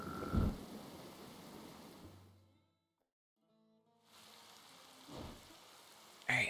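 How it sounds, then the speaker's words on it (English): Rain in the survival game Dead in Vinland patters as a soft, even wash that fades to near silence midway, then returns, all quiet and distant. "Alright, it's rainy."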